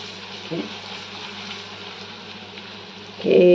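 Clams (seashells) fry in a pan with a faint, steady sizzle in the background, joined by a louder clatter or stir near the end.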